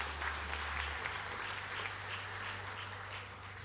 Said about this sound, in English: A round of applause to ourselves